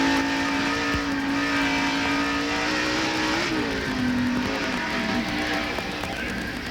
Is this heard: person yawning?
no